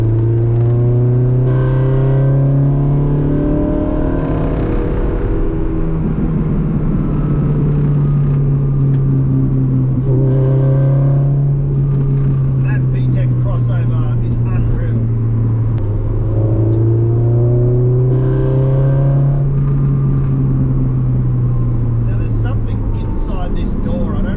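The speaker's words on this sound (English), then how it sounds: "This is mainly so you guys get to hear the car." A K20 Type R engine-swapped car accelerates and revs hard, its loud, close engine note climbing and falling steadily throughout.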